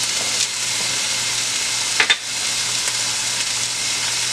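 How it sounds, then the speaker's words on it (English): Garlic cloves and thyme frying alongside a ribeye steak in a pan over high heat, giving a steady close sizzle throughout with a brief crackling burst midway. "And I want it to just fry for about 3 minutes"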